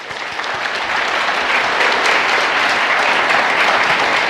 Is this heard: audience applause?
yes